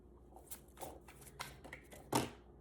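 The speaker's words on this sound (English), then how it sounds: "I shuffled it, and still the Magician is coming at the bottom of the deck." Tarot cards shuffled by hand in a quiet room, a few soft riffling bursts and taps over under three seconds, faint and close, ending with one sharper snap of the deck.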